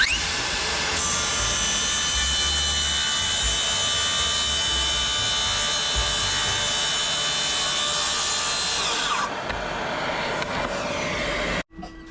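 A power saw cuts straight across an 18 mm plywood offcut at 90 degrees, a loud, continuous, close whine that changes tone near the end and then stops abruptly.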